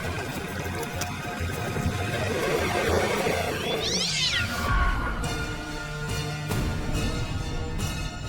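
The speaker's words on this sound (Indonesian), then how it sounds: "Itu tadi kucing lewat Mbak." A cat meows in a quiet indoor domestic setting, a short rising-and-falling cry heard close by over a low steady background hum, with no talk over it.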